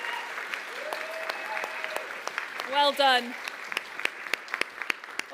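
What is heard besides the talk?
audience applause at startup showcase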